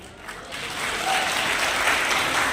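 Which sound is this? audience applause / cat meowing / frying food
audience applause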